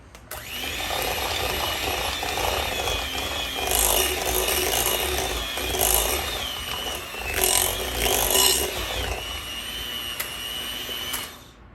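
An electric mixer runs while combining a chicken puff mixture, producing a loud, continuous motor whir with rising and falling surges of strain for about ten seconds before it stops, with no voices.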